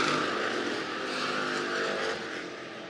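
Hobby stock race cars roar around a dirt speedway at Clay County Speedway, with a dense, continuous engine drone from the field that fades slightly toward the end.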